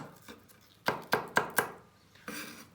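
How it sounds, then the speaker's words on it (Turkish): A knife chops onion and meat on a board: four sharp, evenly spaced strikes close by, then a pause and one more chop, with faint taps before. "Etimizi, soğanımızı doğradık."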